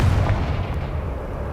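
A loud, booming blast from a Confringo fire spell in the Hogwarts Legacy video game, with a heavy low rumble that fills the short moment and slowly fades, with no talking.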